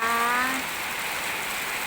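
Steady rain falls outdoors, a dense even hiss of drops on surfaces throughout, while a short tonal hum fades out near the start.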